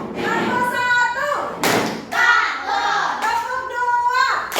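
Schoolchildren doing a rhythmic clapping chant in a classroom, sharp loud hand claps landing in short bursts between sung and spoken children's voices.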